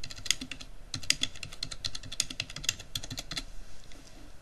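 Quick, irregular clatter of keys on a computer keyboard as an answer is typed into a reply field, sharp close clicks in uneven bursts with no voices.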